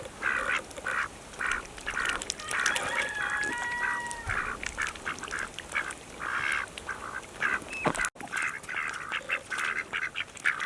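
Several ducks quack and honk repeatedly around a pond of meltwater in early spring, in irregular overlapping bursts at moderate distance, over steady outdoor background noise with no talk.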